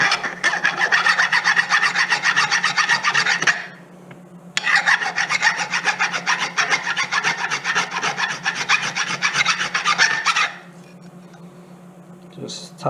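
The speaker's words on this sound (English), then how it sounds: "I just grab a file just to remove the burrs." A metal file scrapes the burrs off a freshly trimmed standoff in fast, steady back-and-forth strokes, loud and close, with one short pause in the middle before it stops near the end.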